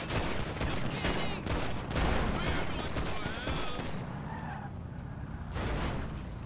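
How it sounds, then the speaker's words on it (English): Rapid gunfire in a video game shootout, dense bursts crackling loud and close for several seconds, with faint voices underneath. "We're about to shoot now."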